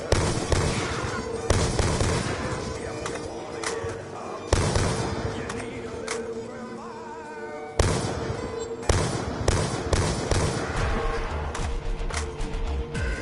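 Rapid bursts of FAL rifle gunfire in Black Ops 2 Zombies, loud and dense with sharp repeated shots and booming impacts, nearly continuous through the stretch.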